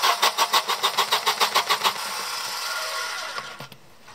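A Volvo 240 engine with a fuel-system fault cranks with a rapid rhythmic chug for about two seconds, then catches briefly into a rough running hum before cutting out.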